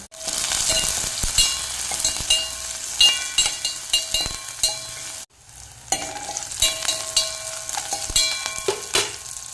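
Spring onion greens and green chilies fry in a pan, sizzling steadily with repeated stirring scrapes, a brief pause partway through, then continued sizzling and stirring up close.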